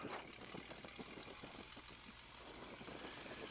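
A Stearman biplane's engine runs steadily on the ground during a run-up into the wind, a faint, even idle with a knocking pulse and no speech.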